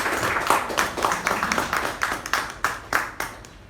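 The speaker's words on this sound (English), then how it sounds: "Can we have a round of applause for both the speaker and the evaluator?" At a Toastmasters meeting, a small audience claps in a steady patter of hand claps that thins out toward the end, close and moderately loud.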